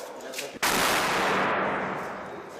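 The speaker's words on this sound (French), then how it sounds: "La base essuie des tirs de mortier." A mortar round landing on a military base: a sudden sharp blast after a quiet start, then a long, loud rumbling roar that slowly fades.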